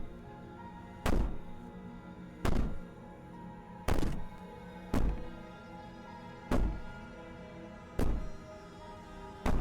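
Heavy knocking on a door in the Slay the Princess game: seven loud single thuds spaced about a second and a half apart, each ringing briefly over a quiet, dark ambient drone.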